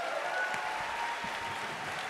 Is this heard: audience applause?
yes